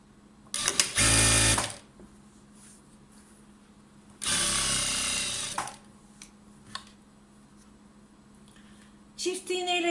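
A straight-stitch domestic sewing machine hems an elasticated skirt in two loud, close bursts of rapid stitching separated by quiet pauses, with a short further run at the end.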